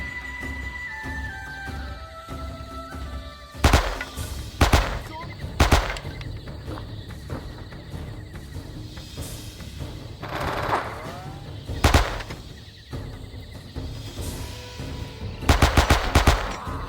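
Bursts of automatic gunfire and single shots ring out in the Vietnam War shooter game Men of Valor, loud volleys recurring every few seconds over a steady battlefield background.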